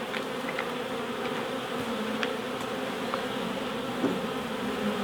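A honeybee swarm hangs on a willow tree, its dense, steady buzzing filling the air close by, with occasional louder passes of single bees flying near.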